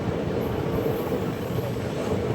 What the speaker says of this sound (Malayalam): ട്രെയിൻ ഇപ്പോൾ പഴനിയിലേക്ക് എത്തുകയാണ്